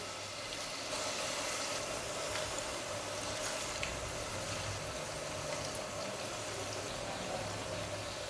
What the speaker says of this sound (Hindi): ऑयल गर्म हो गया है, मैंने इसको चेक कर लिया है। अब मैं इसके अंदर पकौड़े डाल लूँगी।